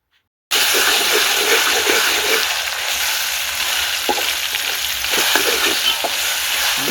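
Tomatoes sizzle and fry in an oily pan for country-chicken biryani, a loud continuous hiss starting abruptly with occasional spatula scrapes and pops, close up and without talk.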